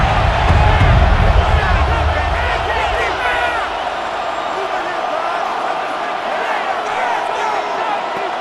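Stadium crowd roars in Madden NFL 26 during a simulated Ravens versus Cowboys game, a loud sustained swell of cheering that eases to a steady hum while a commentator talks over it.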